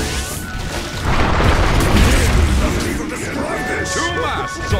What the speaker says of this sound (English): Dire's turret has been killed.